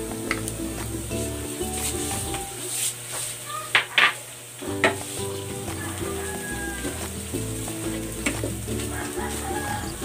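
Pork belly sizzles and fries in a pan with onion and tomato paste, a steady close crackle with stirring scrapes and a few utensil clinks against the pan.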